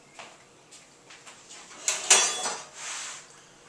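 A spatula and dishes being handled while a chocolate fudge cake is filled and assembled, giving light clinks, scrapes and a brief clatter at close range with no one talking.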